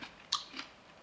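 A single crisp bite into a firm, crunchy green grape, a sharp close crunch followed by a softer chew, with no talking.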